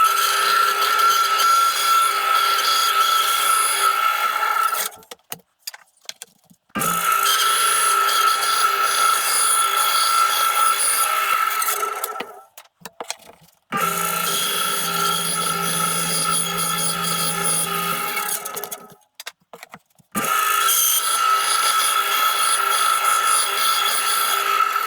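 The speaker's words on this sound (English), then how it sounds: "Just very lightly touch it on the belt sander like that, and that will become a pretty well perfect circle." A wooden circle cut with a homemade jig is lightly sanded on a belt sander, which gives a steady whirring grind in four long passes separated by short quiet gaps, close and loud.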